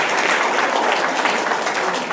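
An audience at a Tamil pattimandram debate event claps briefly and densely, a short burst of steady hand-clapping filling the room.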